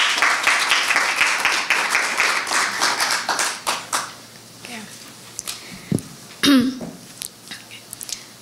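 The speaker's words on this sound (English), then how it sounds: "Let's give them a round of applause." An audience at a TEDx community talk breaks into brisk applause for about four seconds. The clapping then thins out into scattered claps, taps and a few coughs.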